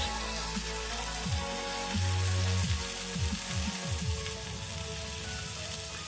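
Steady, loud sizzling of sirloin steak searing in butter with thyme, rosemary and shallots in a hot cast iron pan, continuous broadband crackle with a few low clunks of the pan shifting.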